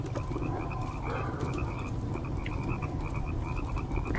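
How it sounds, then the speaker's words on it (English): Dense chorus of frogs croaking in a marsh as a radio drama sound effect, steady overlapping calls with repeated higher croaks throughout, no voices. "frogs."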